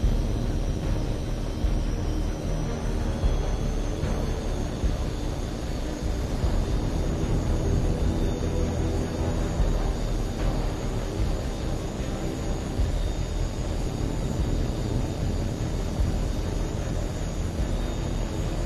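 A jet aircraft in the video game Tom Clancy's H.A.W.X. 2 gives a steady, loud, broadband engine roar that holds without a break throughout, with no speech over it.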